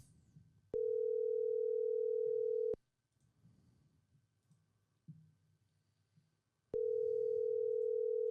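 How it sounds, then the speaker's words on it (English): A phone ringback tone sounds in two long, loud steady beeps separated by a quiet gap with faint background rustle. "Can you hear that ringing on your end?"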